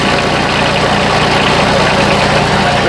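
Bobcat 371 skid steer fitted with a swapped-in Kubota diesel engine runs steadily at close range, a loud continuous low diesel drone with clattery texture throughout and no talk over it.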